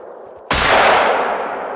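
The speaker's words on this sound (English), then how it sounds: "God, how many times I gotta shoot you?" A single loud hunting-rifle shot fired in the hunting game Hunter Call of the Wild, a sharp crack after a low hum, with a long, slowly fading echoing tail.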